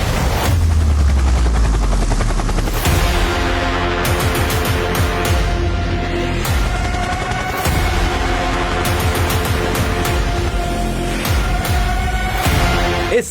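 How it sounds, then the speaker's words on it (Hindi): A Chinese Z-10ME attack helicopter built by Changhe Aircraft Industries Corporation flying, its rotor thumping loud and near in a steady rapid beat, with the whine of the engine continuing throughout and no speech. "इस हैरान कुन ताकतवर हेलीकॉप्टर को चीन की चिंगाई एयरक्राफ्ट इंडस्ट्रीज कॉर्पोरेशन ने बनाया है।"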